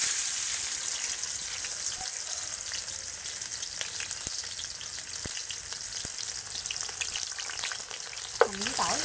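Shallots and garlic frying in a pan for a vegetarian noodle soup, a loud steady sizzle throughout with faint scraping of stirring and a brief clink near the end.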